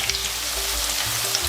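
Zucchini slices frying in hot oil in a pan and being turned over, a close, continuous sizzle with small crackles and a few low clunks of handling, no voices.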